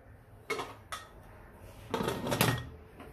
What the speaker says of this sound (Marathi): आणि कुकरचे झाकण लावून घेऊया.